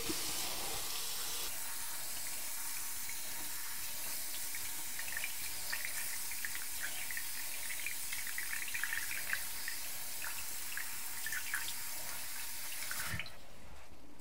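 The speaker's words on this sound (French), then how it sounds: "je vais aller rincer cette plante-là" A mealybug-infested houseplant rinsed under a running tap, a steady close hiss of flowing water with small splattering variations that continues for about twelve seconds and then cuts off abruptly.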